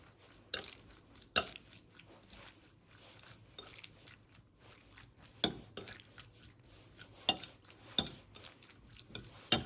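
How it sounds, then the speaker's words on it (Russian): Utensils scrape and clink against a bowl while chopped food is mixed with mayonnaise, with irregular sharp knocks over soft, moist shuffling, close and fairly quiet. "Все перемешиваем."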